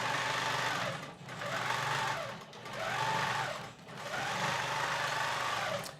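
A longarm quilting machine stitching a quilt runs with a steady, close whirring hum, rising and dipping in pitch and loudness as the head moves across the fabric.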